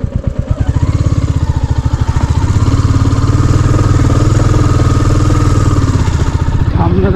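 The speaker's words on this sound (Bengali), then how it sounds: "বাজাজ অ্যাভেঞ্জার, ওরও গ্রাউন্ড ক্লিয়ারেন্স অত ভালো না, কিন্তু আমরা ওই কারণে দেখে চালাচ্ছি আস্তে আস্তে।" A Bajaj Avenger motorcycle rolls slowly along an off-road track, its engine thumping in a loud, steady low drone with a slight rise partway through, close up and continuous with no talk.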